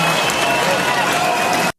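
A crowd claps and cheers in a sustained, even burst of applause that stops abruptly, with a voice talking over it.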